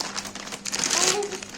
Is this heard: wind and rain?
no